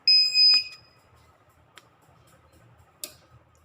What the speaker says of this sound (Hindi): जब ये चार्जिंग LED ऑन होती है तो इसकी बीप आते हैं, बीपिंग करता है ये।